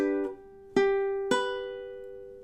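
Three bright ukulele chords are struck in a short staccato pattern, each a crisp attack that rings and slowly decays, played alone and close, from measure 7 of a song.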